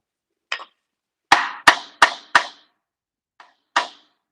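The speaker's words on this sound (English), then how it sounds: "Yes, that was a rubber mallet." A rubber mallet knocks a spur center into a wood lathe in six sharp, separate strikes, including a quick run of four, close and clear against silence.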